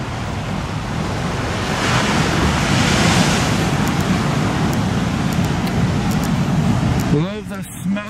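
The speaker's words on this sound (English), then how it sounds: "Love the smell and the sound of the ocean." Ocean waves roll and crash against the granite rocks at Peggy's Cove in Nova Scotia, a loud, continuous wash of surf with wind buffeting the microphone; a voice speaks briefly near the end.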